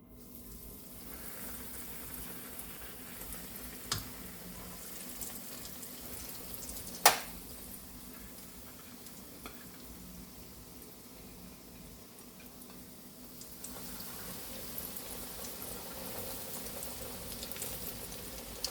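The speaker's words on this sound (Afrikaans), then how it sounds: "En nou gaan ek hom net braai tot hy lekker goudbruin is aan beide kante." Chicken frying in hot oil in a pan on a stove set to medium heat, giving a steady, close sizzle that runs throughout, with a brief sharp click partway through and the sizzle growing fuller near the end.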